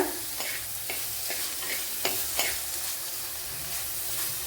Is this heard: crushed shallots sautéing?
yes